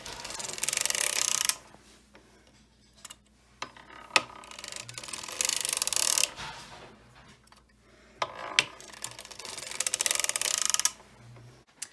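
A circular sock knitting machine being hand-cranked makes bursts of close mechanical ratcheting and clicking, several seconds each, separated by short quiet pauses.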